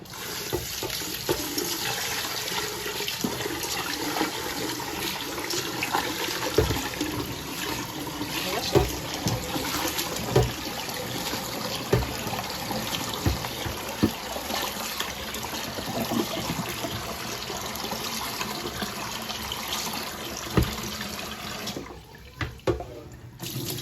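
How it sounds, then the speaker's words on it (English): Water drains and splashes steadily from a pot of washed basmati rice for a long stretch, with continuous running and trickling and a few clanks of the pot, heard close up. "take as much water out as you can"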